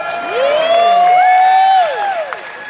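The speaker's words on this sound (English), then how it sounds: "Always get some applause." A concert audience at a blues show in North Tonawanda, NY cheers and applauds loudly and steadily, with a bright sustained tone riding over the crowd noise throughout.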